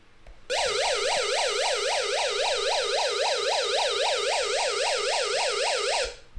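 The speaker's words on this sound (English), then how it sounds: "switch this button to SOS, and the radio is going to alarm and is going to flash the light." An MRQ emergency weather hand-crank solar alert radio sounds its SOS alarm: a loud, steady electronic siren warbling up and down in quick regular sweeps for about six seconds, alone with no talking.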